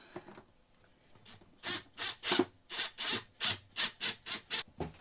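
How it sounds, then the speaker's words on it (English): Screws driven in one after another to secure a mounted unit, giving about ten evenly spaced rasping bursts of similar loudness, close up with no talk. "I'm just going to put these screws in, make sure that they do support it enough"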